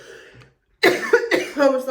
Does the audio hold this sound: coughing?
yes